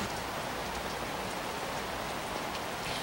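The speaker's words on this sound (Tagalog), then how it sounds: "sa mga oras na ito ay bumubuhos ang malakas na ulan dito sa Marikina City" Heavy rain pours down in Marikina City, a dense, steady roar of drops hitting surfaces, loud and unbroken with no voices.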